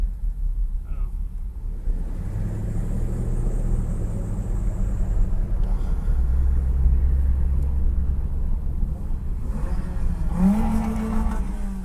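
A 1959 Cadillac's engine rumbles steadily and revs up against its rev limiter, a low droning roar that swells in the middle, with some background voices near the end.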